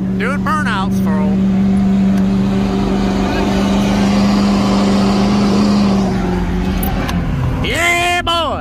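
A Ford 6.0 diesel truck roars through a sustained burnout, its engine holding a loud steady drone before easing off, with people whooping and shouting over it at the start and end.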